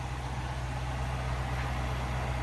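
A Mercedes-AMG GLE63 S Coupe idles in a steady, low, rumbling drone that stays constant and close throughout.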